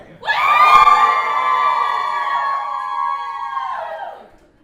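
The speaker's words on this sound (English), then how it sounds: "just scream, put your hands up." An audience at an entrepreneur event screams and cheers on cue with hands up, a loud, dense crowd roar that swells quickly, holds steady for about four seconds, then fades out.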